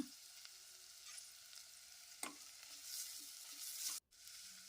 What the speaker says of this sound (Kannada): ಒಂದು ನಿಮಿಷ ಇದನ್ನು ಎಣ್ಣೆಯಲ್ಲಿ ಫ್ರೈ ಮಾಡ್ಕೊಳ್ಳೋಣ ಕೊತ್ತಂಬರಿ ಸೊಪ್ಪನ್ನ ಹಾಕ್ಕೊಳ್ತೇನೆ ಇದನ್ನು ಫ್ರೈ ಮಾಡ್ಕೊಳ್ಳೋಣ